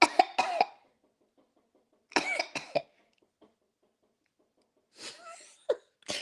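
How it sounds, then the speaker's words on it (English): A woman coughs in two close bursts, then a double cough after a pause and a final cough, each sharp and loud against a quiet background. "Every time I cough"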